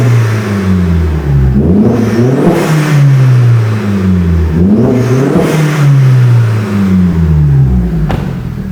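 Vauxhall Astra VXR with a Cobra decat downpipe exhaust, close and loud, revved twice from a steady idle in sharp rising blips that quickly fall back, with no talking.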